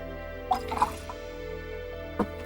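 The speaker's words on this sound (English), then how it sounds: "Can you guys hear my water refilling sounds?" Water trickles and drips into a container being refilled, a few soft splashing plops close by over a steady tonal hum in the background.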